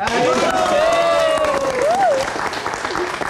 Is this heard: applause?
yes